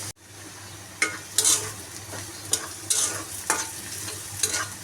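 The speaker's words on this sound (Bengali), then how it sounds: "তেল দিয়ে পেঁয়াজ ভাজতেছি" Sliced onion fries in hot oil in a pan, a soft continuous sizzle broken by several sharp scraping strokes of a spatula stirring at a steady rhythm, close and fairly quiet.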